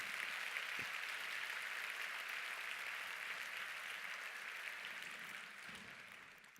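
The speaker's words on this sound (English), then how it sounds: "I think a round of applause for Ange and her family" A faint, distant wash of audience applause at a business talk fills the clip, steady and then slowly fading out.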